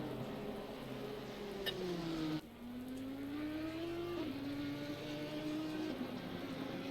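Race cars in a racing video game at Monza, engines droning steadily down the start-finish straight after Parabolica, pitch dipping on a gear change then climbing again, one car running close in another's slipstream.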